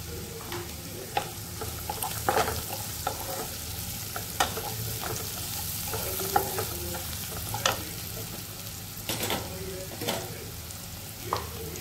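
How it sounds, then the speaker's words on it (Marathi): Mixed vegetables sprinkled with turmeric sauté in a pan with a constant oily sizzle, while a spatula scrapes and taps against the metal in irregular strokes, close up with no talking. "त्यालाही व्यवस्थित आपण परतून घेऊया. आता आपण थोडीशी याच्यावरती हळद टाकून घ्यायची."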